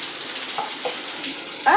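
Spices dropped into hot oil for tempering, with asafoetida among them, sizzle in a pan of mixed vegetables in a home kitchen, a steady frying hiss that flares briefly near the end while a voice says a short word.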